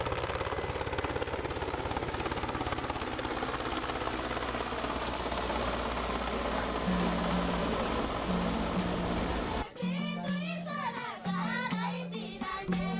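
A chartered helicopter in Nepal's Rara region drones with a steady whirring roar for several seconds, then the rotor chop grows sharper and more distinct as it passes close.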